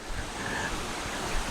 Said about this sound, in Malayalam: ഈ വെള്ളം ഇങ്ങനെ വീഴുന്ന ഈ ശബ്ദം